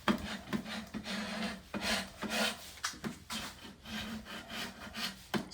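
A scraper drags softened paint off a wooden corner during paint stripping, making a series of rough, rasping strokes that repeat in an uneven rhythm, close and fairly loud, with no talking.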